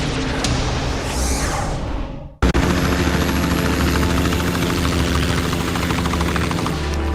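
A helicopter's loud rotor chop and engine roar fill the scene, briefly cut off then returning at full strength, steady and close.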